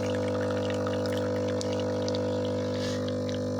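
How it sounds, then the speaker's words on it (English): A Delta Q coffee machine dispenses hot water with a steady pump hum under a close, continuous trickle of water pouring into a cup. "So maybe I can just then top up with some hot water."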